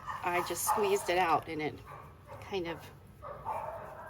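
Dogs barking indoors under a voice: a few yips and bow-wows mixed in with her talking, moderately close and not very loud.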